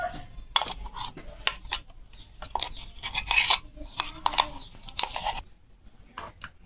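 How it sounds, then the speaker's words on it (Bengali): Shrimp being mixed with a ground mustard and poppy seed spice paste in a bowl for steamed shrimp, giving repeated close scraping and clinking of a utensil against the bowl in uneven bursts. "এই চিংড়ির সাথে সব মশলা ভালো করে মিশিয়ে নিয়েছি"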